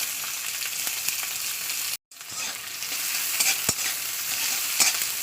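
Chopped onion fries in hot oil in a wok, a steady close sizzle broken by a brief cut, with light stirring clicks.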